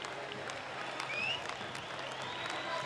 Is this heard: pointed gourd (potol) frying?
no